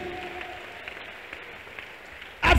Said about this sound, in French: Applaudis vite. Applaudis.